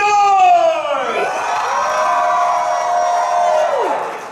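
A crowd at a brony Ponycon convention cheers and shouts loudly and continuously, with high whooping voices rising and falling over the dense roar for several seconds.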